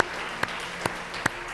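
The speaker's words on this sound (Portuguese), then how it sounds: "Você pode aplaudir o nome do Senhor" Church congregation applauds in a soft, even wash of distant clapping, with three sharp, louder claps standing out at regular intervals over the background.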